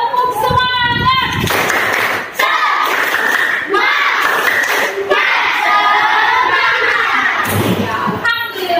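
Schoolchildren in a classroom perform the tepuk semangat chant, with rhythmic bursts of group clapping and thumps between loud chanted voices, led by a teacher.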